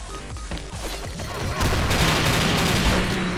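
Dense, continuous gunfire in a video game, a rapid volley of shots that swells louder midway and keeps rattling to the end, with no voices.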